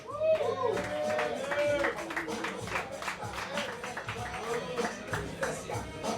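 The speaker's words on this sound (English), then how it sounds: "Let's get another round of applause for Charlie and Mad Funny tonight." Comedy club audience clapping and cheering at a stand-up show, a scattered patter of applause under shouted voices and a host's talk.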